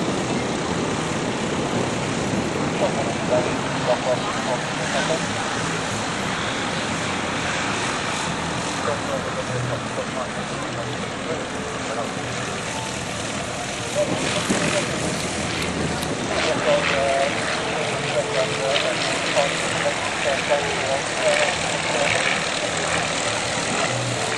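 A rare Moth Minor propeller aircraft taxis for departure at a flying festival at Shobdon, its engine a steady drone held at a fairly even level throughout, with a voice talking over it.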